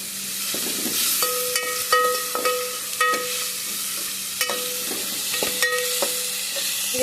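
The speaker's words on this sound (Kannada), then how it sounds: "ಟೊಮೆಟೊ ಸ್ವಲ್ಪ ಜಾಸ್ತಿ ಎರಡು ಮೂರು ಹಾಕೊಂಡಿದ್ದೀವಿ ಚೆನ್ನಾಗಿ ಫ್ರೈ ಆಗಬೇಕು" Tomatoes and green chillies fry in a pan for a lentil-free rasam, giving a steady close sizzle broken by repeated clinks and scrapes of a spoon stirring, with a constant hum underneath and no talk.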